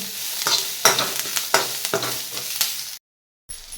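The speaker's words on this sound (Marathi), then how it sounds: "लसणाच्या पाकळ्या घालायच्या एक इंच आलं तुकडं करून घेतलंय पाच सहा काजू घेतलेत आता हे दोन मिनिट भाजायचं" Garlic cloves, an inch of ginger and five or six cashews roast in a pan, stirred with repeated scraping strokes over a steady sizzle, close and fairly loud, before a brief drop to silence near the end.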